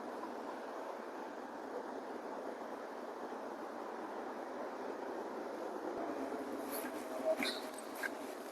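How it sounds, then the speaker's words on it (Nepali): Quiet ambience at a train station in Portugal: a faint, steady rumbling hum with soft distant clatter and a few brief clicks near the end, no clear voices. "म तपाईँहरूलाई यहाँको ट्रेन स्टेसन देखाउन चाहन्छु"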